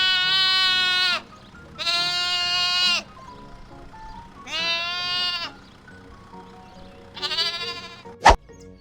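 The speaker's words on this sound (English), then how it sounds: "Moving on to the next animal, the lamb." A lamb bleats four times in clear, drawn-out calls with pauses between, close and alone, followed by a brief sharp click at the end.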